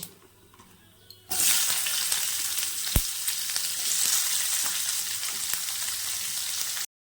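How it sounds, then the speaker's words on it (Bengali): Chopped onions hit a frying pan of hot oil already tempered with nigella seeds, bursting into a loud, steady sizzle that holds for several seconds with a few crackles and pops, no voices present. "আমার ফ্রাই প্যানে তেল গরম হয়েছে। আমি এর মধ্যে একটু কালো জিরা সম্বার দিলাম, তারপরে দিয়ে দিচ্ছি পেঁয়াজ।"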